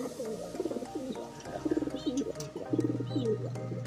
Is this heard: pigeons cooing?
yes